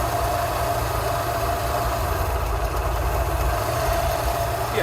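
A Rolls Royce Silver Shadow engine idles loudly and continuously with a steady low drone and slight vibration during a carburettor pin test, with no voices over it.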